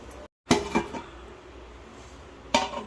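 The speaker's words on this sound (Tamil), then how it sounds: "இந்த ஓரம் இருக்கிற மாவெல்லாம் இந்த மாதிரி நல்லா வழித்து அதை சுத்தம் பண்ணிவிட்டு நம்ம அப்படியே மூடி வச்சிடலாம்." Idli and dosa batter scraped from the edges of a container and a lid set down, giving a few short clinks and scrapes of metal utensil on vessel, close and moderately loud with a quiet pause between.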